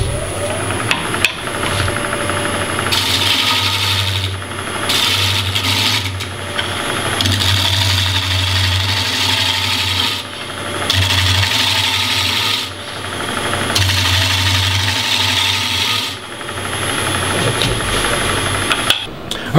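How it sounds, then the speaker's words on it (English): Wood turning on a lathe with a large round nose scraper, a loud continuous rasping scrape over a low motor hum, rising and easing in long passes as the tool cuts; no talking. "I'm going to switch to a round nose scraper and a big one and try and just get it nice and clean."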